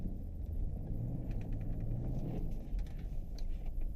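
A full-size rear-wheel-drive car rumbles along at a steady pace, its engine a low continuous drone with faint mechanical rattles and road noise and no voices.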